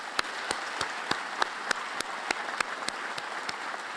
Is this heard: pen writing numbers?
no